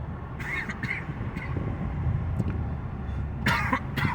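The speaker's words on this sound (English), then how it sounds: "Fucking smoker's cough." A smoker's cough comes in several short, rough bursts close by inside a moving car, heard over a steady low road rumble.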